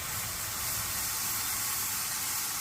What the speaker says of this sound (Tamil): இப்போ மசாலா டீ நல்லா கொதித்து வந்துருச்சு